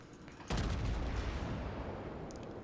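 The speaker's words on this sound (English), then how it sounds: "Let's bring the back of the ship round, see if we can get both guns to bear on" Main guns of the battleship Mikasa firing at a target in World of Warships, one sudden loud boom followed by a long rolling, fading rumble.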